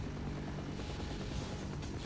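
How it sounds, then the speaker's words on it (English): Helicopter in the video game Half-Life, a steady loud rotor and engine drone filling the whole moment with constant broadband rumble and no pauses. "Oh, there's a helicopter!"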